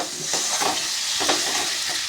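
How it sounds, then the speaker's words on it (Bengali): Potatoes stirred into a jackfruit curry masala sizzling in a pan, a loud close frying hiss with two or three distinct scraping stir strokes and no speech. "এবার আমি আলুগুলো এর মধ্যে সব দিয়ে দিচ্ছি। দিয়ে অল্প একটু নাড়াচাড়া করে"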